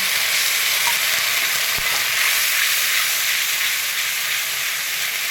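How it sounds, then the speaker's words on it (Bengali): Fennel paste fries with ginger in a pan for a fish curry, giving a loud, dense, continuous hiss and sizzle with one faint knock partway through, close up and with no speech. "এবারে আমি দেব মৌরি বাটা, অনেকটা মৌরি বাটা"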